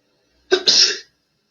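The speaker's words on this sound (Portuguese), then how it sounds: "First, sneezing." A single sharp sneeze, loud and close, with a quick intake burst followed by a forceful blast of air in an otherwise silent room, part of a droplet-spread experiment.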